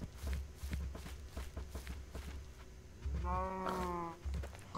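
A cow in the video game Minecraft lets out a drawn-out, synthetic moo partway through, following a stretch of quick footstep-like taps during livestock herding.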